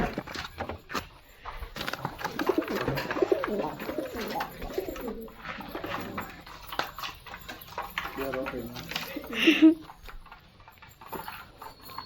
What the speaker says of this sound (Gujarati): પપ્પા છે ને જો રોટલી નાખે છે કબૂતરને